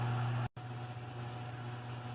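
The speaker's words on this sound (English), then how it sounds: "I'm sorry about the fan noise from the cooler" A cooler's fan gives a steady electrical hum and broadband whirring that is briefly cut off for an instant near the start, then runs on evenly and close by without talk.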